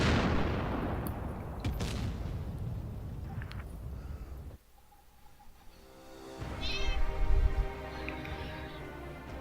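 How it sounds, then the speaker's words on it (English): A house cat meows loudly and close, giving several drawn-out calls near the end over game gunfire and explosions that dominate the first half. "she likes to meow. She's a pretty vocal cat."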